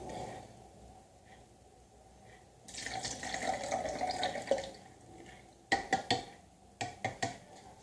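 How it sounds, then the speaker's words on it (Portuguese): Milk pours into a bowl for a banana cinnamon cake batter, a soft liquid stream running for a couple of seconds, followed by a few light knocks and splashes. "Agora, nós vamos derramar o leite."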